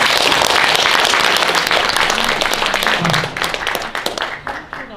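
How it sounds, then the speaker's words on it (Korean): An audience at a regional agricultural association founding ceremony applauds with dense, loud clapping that gradually thins out and fades toward the end. "임기가 일단 가는 걸로 이인준 박수를 쳐줬으면 고맙겠습니다."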